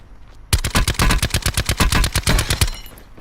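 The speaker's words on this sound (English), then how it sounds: "I think it was just people shooting that big fat zombie" Rapid automatic gunfire in the Call of Duty Blackout video game, aimed at a large zombie: a loud, close sustained burst of about twenty evenly spaced shots lasting roughly two seconds, then stopping.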